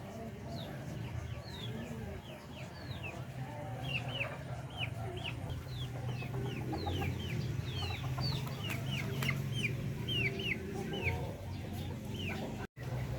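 Chickens cluck repeatedly in a steady, busy chorus on a farm where hens lay eggs, with occasional rooster notes and quiet talk underneath.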